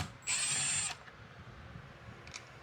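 A power drill spins for about half a second, backing out T20 Torx screws on a Jeep steering wheel, a loud high whine that stops abruptly, followed by faint handling noises.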